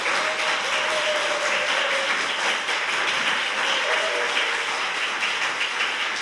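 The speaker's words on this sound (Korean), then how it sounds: "박수 쳐주면 좋겠습니다" A studio audience applauds lawmaker Ko Min-jung on a Korean talk show, producing a dense, steady wash of many hands clapping evenly for the whole stretch.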